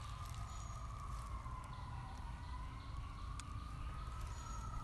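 A distant fire truck siren wails steadily with a slow rising and falling tone over a quiet neighborhood's constant low background rumble, with no talk.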